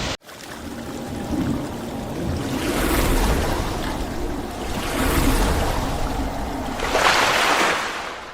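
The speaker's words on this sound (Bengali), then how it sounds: "এই হচ্ছে রাথিবাড়ি ওয়াটারফল।" Rathiwali Waterfall in Koraput pours in a steady, broad rush of water, loud and continuous, with surges swelling and easing every few seconds and no voices over it.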